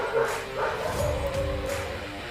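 Dogs bark and yip several times in quick succession, fairly close, with a whimpering tone between barks.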